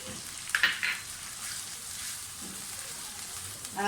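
Boneless chicken frying in a pan as green chillies are added, giving a steady close sizzle with a few brief clatters and stirring scrapes near the start and end.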